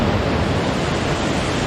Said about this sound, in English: Look at the river. That is impressive, man. You can hear it.